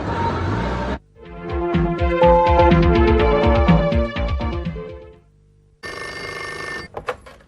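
An old landline telephone bell rings in a rapid, loud, close burst of metallic trills for several seconds, stops, then starts ringing again briefly, with no talk over it.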